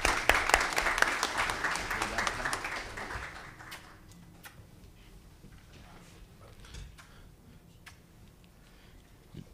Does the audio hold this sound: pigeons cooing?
no